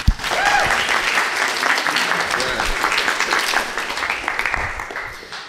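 Audience applause after a live performance at a talk event, a dense steady wash of many hands clapping at full strength for about five seconds, fading slightly at the end.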